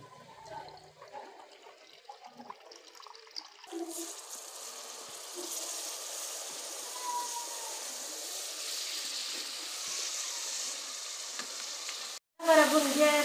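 Masala for a village-style tinde dish fries in a pan. After a quiet opening, steady crackling sizzle fills most of the clip, then cuts out briefly and returns in a sharper, louder burst at the end.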